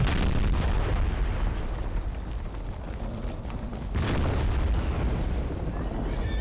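Booming artillery fire in the strategy game Empire: Total War, a dense rumbling barrage of cannon shots rolling on continuously, with a fresh heavy burst near the middle.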